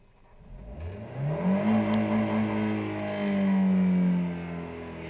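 Car engine running on petrol, revved from idle up toward 6000 rpm, the tone climbing steadily and holding a loud high-revving drone before easing slightly, close to the listener.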